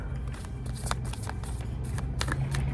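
A deck of playing cards being shuffled gives quiet, rapid bursts of papery riffling and clicking, repeated several times close up.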